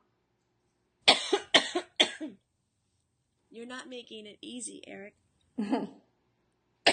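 Several harsh coughs burst out in a quick cluster, then a short spoken line, then another cough, all close and fairly loud against silence.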